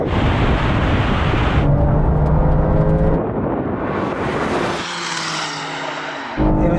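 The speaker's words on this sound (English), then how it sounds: "This thing spun up its tires, didn't have as good traction as the first one" A Porsche 911 Turbo S and a BMW M3 xDrive drag racing, loud engines roaring up through the gears with rising pitch, dropping off and then surging again, with tires spinning.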